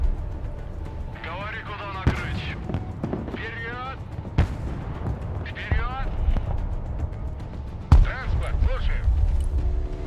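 Akatsiya self-propelled guns fire artillery in the Broken Arrow video game, with several sharp, booming shots spaced across the stretch and a steady battlefield rumble beneath ongoing talk.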